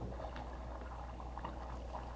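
A creek burbles gently in a steady, continuous low wash of flowing water, close and even throughout with no voices.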